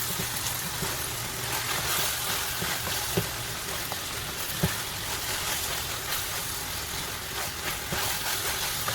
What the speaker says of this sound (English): I'm going to let it fry for a little bit more before I add my coconut milk